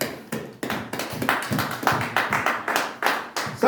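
A church congregation claps in acclaim of the Lord during a Pentecost service, a steady run of close, rhythmic hand claps filling the space with no voices over it.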